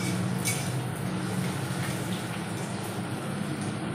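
Tap water runs steadily while cut vegetables are rinsed in a home kitchen, a continuous close splashing stream with faint clinks and no speech.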